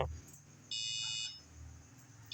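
An ESP8266 ultrasonic-sensor project's electronic buzzer gives a single steady, high-pitched beep lasting about half a second, clear and fairly loud over a low background hum.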